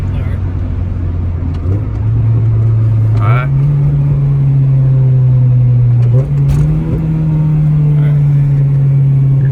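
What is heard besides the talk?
Honda car with new intake accelerating hard during pulls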